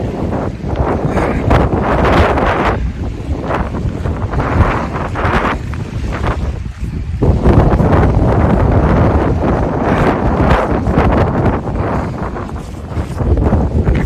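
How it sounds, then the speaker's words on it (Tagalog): Strong wind buffets the microphone outdoors in Alberta, a loud, constant roaring rumble that never lets up. "Yung hangin kasi. Yung wind chill. Narinig nyo ba guys?"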